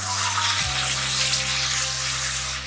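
Ground tomato paste poured into a pan of frying chicken, giving a steady, loud broadband sizzle with a brief shift as the paste hits the hot oil, continuing evenly throughout.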